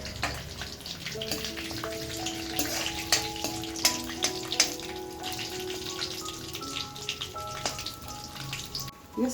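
Cinnamon, cloves and fennel seeds sizzle in hot oil, a steady crackling fry with scattered sharp pops and a faint tonal hum in the background.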